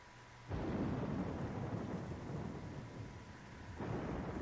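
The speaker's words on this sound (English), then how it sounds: "Got a terrible descent to the planet below. In a storm." Rumbling thunder and steady heavy rain in the Metroid Prime game on Wii as the ship descends to a planet through a storm, a dense continuous downpour that swells loudly after a quiet opening, with no voices.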